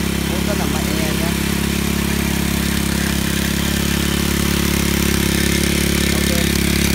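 Turbocharged motorcycle engine fitted to a water pump, which has taken in water, running at a steady, close idle with a constant droning hum and light clatter.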